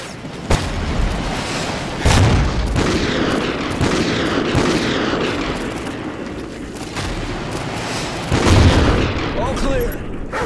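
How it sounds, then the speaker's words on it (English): Remote sniper rifle shots and booming explosions against RPG enemies in Call of Duty: Ghosts, with loud sharp cracks over rumbling battle noise and soldiers shouting. "Use the remote sniper to clear those RPGs!"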